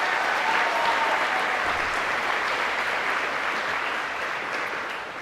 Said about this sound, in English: so big round of applause for Mrs.